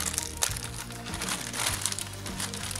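Plastic mailer package from AliExpress being torn open by hand, a steady crinkling and crumpling of plastic with sharper rips, close and moderately loud throughout, no talking.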